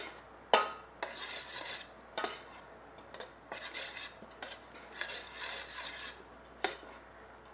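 Pasta with pistachio pesto is stirred in a pot, with scraping, rubbing strokes of a utensil against the pot and a few sharper knocks, close and quiet.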